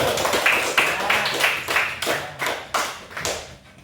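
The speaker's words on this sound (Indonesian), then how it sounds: "Tepuk tangan dulu untuk kelompok 1" Students in a classroom clap for a student group, a loose series of about ten distinct claps in a rough, uneven rhythm, close and fairly loud, tapering off at the end.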